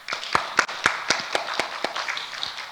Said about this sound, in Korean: 우리 이렇게 박수로 격려해 주셔서 고맙습니다